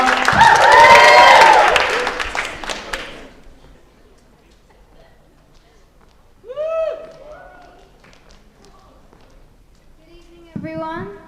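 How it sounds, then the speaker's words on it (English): Audience applause at a student election question time, a short loud burst of clapping and cheering in the first few seconds that fades out, followed by quiet and scattered voices. "Round of applause, please."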